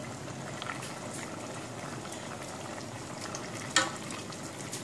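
A pot of salted water boils for cooking the rice of a channa biriyani, giving a steady, even bubbling rush with one brief sharp clink near the end and no talking.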